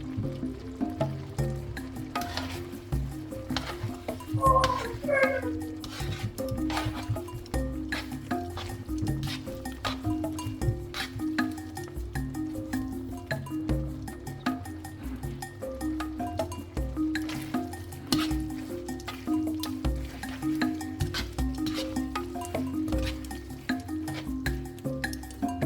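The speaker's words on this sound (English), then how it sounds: "And then I'm going to add my pasta. Adding my pasta," Cooked fettuccine pasta tumbles into a pan of creamy chicken sauce with soft wet squishing and stirring, a few light clinks of a utensil against the pan over a steady low background hum.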